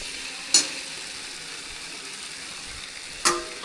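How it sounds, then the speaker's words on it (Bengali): Fish curry with potato and broccoli sautéing in a pan, a soft continuous sizzle broken by two sharp clinks of a utensil against the pan, close by. "আলু আর ব্রোকলি দিয়ে মাছের ঝোল এখনো কষাচ্ছি"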